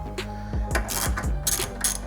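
A ratchet with a 10mm socket tightens the bolts of a front upper strut brace on a Toyota Corolla, giving a few quick metallic clicks and small clanks close up, with no voices.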